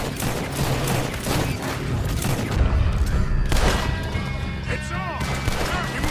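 Gunfire erupts during an attack on a camp in a video game, rapid loud shots and crashing impacts over a dense din, with voices shouting amid the chaos.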